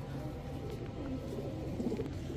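Giribaz pigeons softly cooing, a low steady murmuring coo through the whole stretch under a faint background hiss, with no talk.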